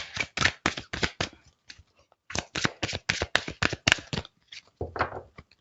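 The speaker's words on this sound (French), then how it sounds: "je vais mélanger un peu et ensuite je vais faire une coupe pour prendre la carte du milieu" A deck of oracle cards is shuffled by hand, a series of quick papery riffles and taps in rapid bursts with a short pause midway, close and clear with no talking over it.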